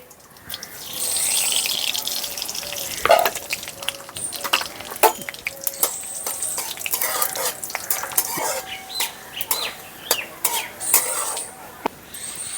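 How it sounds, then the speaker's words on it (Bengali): A dried red chili and panch phoron hit hot oil in a pan, bursting into a crackling sizzle with sharp pops and utensil clinks against the vessel, close and intermittent. "তেলটা গরম হয়ে গেছে, এখন দিয়ে দিচ্ছি একটা শুকনো লঙ্কার তেলের মধ্যে, আর দিয়ে দিচ্ছি একটু পাঁচফোড়ন।"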